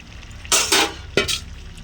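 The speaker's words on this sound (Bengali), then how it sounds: "এবার আমি ফুলকপি দিয়ে দিব ফুলকপিটা দিয়ে দিলাম" Cauliflower pieces tipped into a pan of boiling spiced water, giving two bursts of splashing and clatter, with quiet kitchen background between them.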